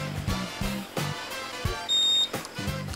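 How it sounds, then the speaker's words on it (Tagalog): A Honda Click 150i scooter alarm buzzer gives a clear, steady electronic beep tone near the middle of the clip, set among rhythmic background music pulses. "makakaselect ka na kung ano yung gusto mong buzzer alarm pattern"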